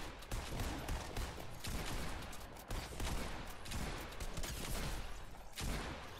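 Rapid gunfire from Fortnite Battle Royale crackles in dense, sustained bursts with only brief gaps, loud and close throughout and with no talk over it.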